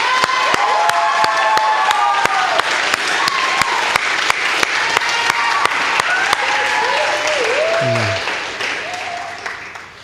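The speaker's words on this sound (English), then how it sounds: "let's give a big cheer and thanks." Crowd at a middle school closing assembly bursts into loud, sustained applause with cheering and shouts, steady for about eight seconds before fading at the end as a voice briefly cuts in.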